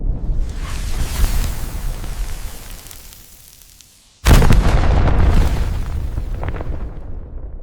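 Bomb Toss spell in Final Fantasy XIV, two loud booming explosions: a rumbling blast that fades out, then a sharp second detonation followed by a long, decaying roar.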